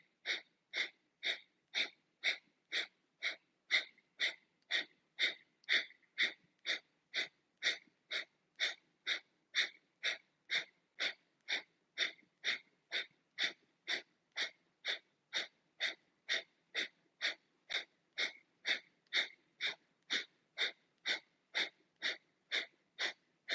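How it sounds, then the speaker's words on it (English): Rapid, rhythmic breath of fire exhalations pulse through the nose at a steady, even pace, roughly two sharp breathy bursts per second, continuing unbroken for over twenty seconds with no talking. "breath of fire is a really alchemizing breath practice"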